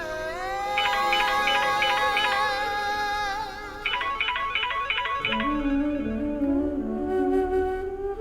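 A phone ringtone plays a bright repeating electronic melody, loud and close, shifting into a lower tune near the end, with no talking.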